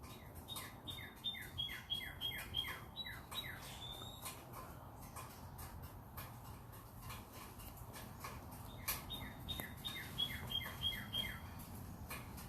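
Birds chirp in quick repeated bursts of high, descending notes, with occasional squawks, heard at moderate distance over a faint steady background hum.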